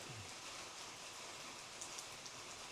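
Rain falls steadily outdoors in Sri Lanka, a dense, even hiss that fills the scene, with a few close drops tapping near the end.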